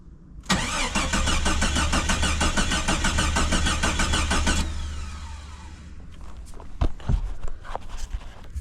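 A Jeep Cherokee engine cranks loud and steady on its starter with a rapid rhythmic churn for about four seconds, then stops, followed by scattered clanks and shuffling movement nearby.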